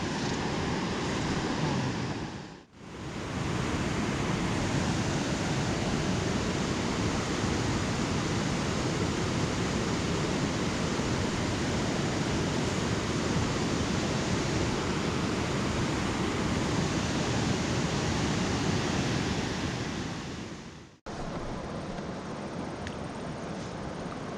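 A waterfall at Nestor Falls on Lake of the Woods roars as a dense, steady broadband rush. It is loud and close, with two brief dropouts and no voices.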